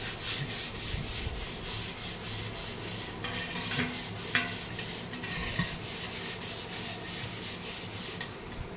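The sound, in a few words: scrubbing copper vessel clean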